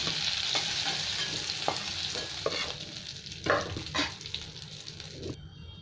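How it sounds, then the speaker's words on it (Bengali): Bay leaves, torn dried red chillies and whole cumin seeds sizzle steadily in hot oil left from frying prawns, with a continuous crackling hiss broken by a few stirring scrapes, close and alone. "এখানে দুটো তেজপাতা দিয়ে দিলাম, শুকনো লঙ্কা ছিঁড়ে দিয়ে দিলাম দুটো, একটু গোটা জিরে দিয়ে দিলাম।"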